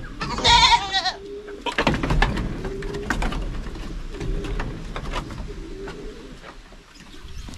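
Goats on a farm where two does have just given birth; one loud, wavering bleat sounds close by at the start, followed by scattered thumps, rustling and quieter animal noises with no talk.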